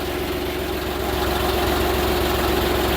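A low, steady tractor engine idles continuously with a rhythmic chugging throb, close and fairly loud, with no voices.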